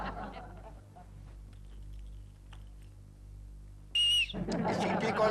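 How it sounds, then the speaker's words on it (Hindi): A short, shrill whistle blast sounds for about half a second, loud and close, in an office setting, followed at once by a burst of agitated talking; before it there is only a faint low hum. "सीटी कौन बजा रहा है?"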